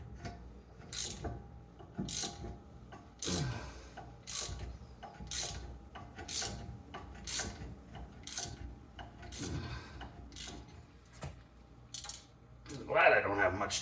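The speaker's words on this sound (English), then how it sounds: "Maybe I'll have better luck with a 1/2-inch ratchet." A 1/2-inch ratchet clicking during rear brake work on a 2017 Ford Flex, intermittent close strokes with metallic clinks, a voice talking at times between them.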